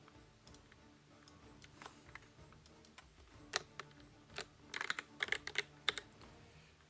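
Computer keyboards clatter as two players at a Hellish Quart fighting-game tournament type and tap keys, sparse soft clicks building into quick bursts of crisp keystrokes over a faint background hum.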